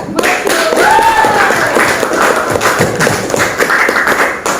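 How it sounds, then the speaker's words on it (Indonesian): An audience applauds at a student speech-practice session, dense clapping that stays loud and sustained throughout, with scattered thumps and a few voices mixed in. "Agar kita berikan aplaus sekali lagi kepada mereka"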